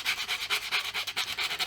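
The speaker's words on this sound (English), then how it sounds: "I'm just gonna sand it like this" Steady back-and-forth rubbing of sandpaper on a wooden guitar headstock, a quick rhythmic scratchy stroke repeating about five times a second, close and fairly quiet.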